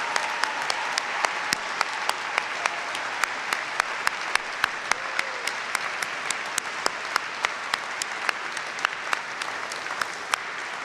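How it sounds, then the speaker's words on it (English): Audience applauding at a university degree ceremony for the College of Arts and Law, a steady, dense wash of many hands clapping with a few sharper claps standing out, sustained evenly throughout with no voices. "could join me in a round of applause and a thank you"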